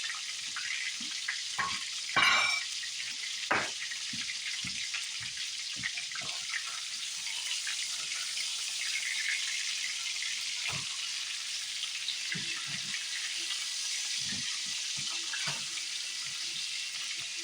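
Food frying and sizzling steadily in a pan after being flipped with a spatula, a continuous hiss with occasional spatters and clanks of the utensil, no talking.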